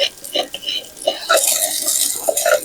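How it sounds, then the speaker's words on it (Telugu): Onion curry being stirred in a pot with a spoon, a series of soft scraping and clinking strokes close by, with light sizzling underneath. "మంచిగా కలుపుకోవాలి."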